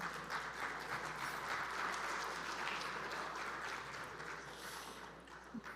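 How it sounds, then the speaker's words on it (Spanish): Sustained applause from a conference audience welcoming speakers at the ARPEL 2022 energy industry event, a moderate, even patter that swells slightly in the middle and then tapers off. "recibamos con un fuerte aplauso a Tiphaine Le Moener"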